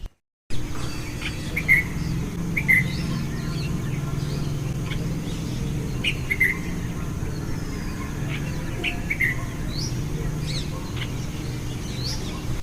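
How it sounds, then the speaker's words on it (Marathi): Short bright calls of a bulbul singing from a tree in the morning repeat every second or two over a steady insect hum, with faint background noise in the distance. "पिट्टुकला बुलबुल झाडावर बसून गाणं म्हणत आहे"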